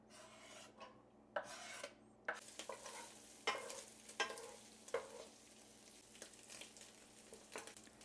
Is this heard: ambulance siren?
no